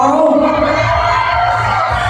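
Crowd at a Thai concert shouting and cheering together, loud and continuous, a dense wall of voices.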